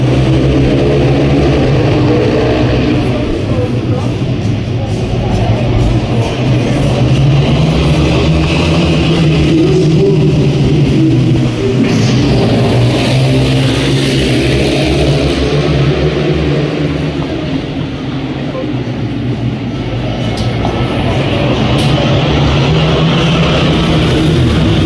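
Ice speedway motorcycles lap a frozen track during practice at a world championship round in Germany, engines droning and revving loudly and continuously, pitch swelling and falling as the bikes pass, with no pauses.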